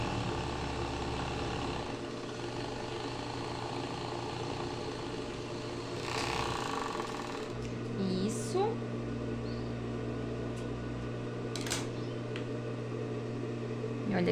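A sewing machine runs steadily, stitching three layers of fabric together on a pair of boxer briefs, its motor humming continuously near the listener with a brief shift in pitch partway through.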